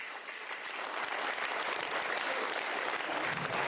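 Sustained applause from a studio audience on a Romanian talk show, dense and steady clapping at even loudness throughout without any voices.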